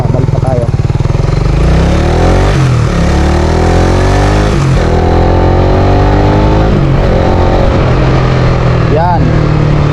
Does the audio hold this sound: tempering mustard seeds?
no